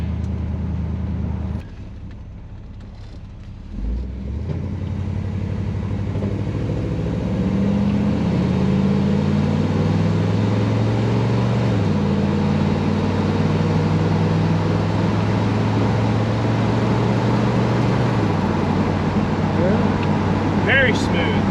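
Pontiac Grand Prix car engine heard from inside while accelerating along a road, a steady hum with rising and stepping tones as it pulls through the gears, and people talking over it.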